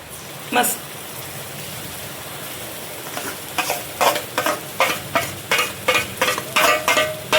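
Ground masala paste of onion, coconut, coriander seeds, poppy seeds, sesame, ginger, garlic and coriander leaves goes into a pan for Kolhapuri-style mutton: a low sizzle, then a steady series of close, rhythmic scraping stirs.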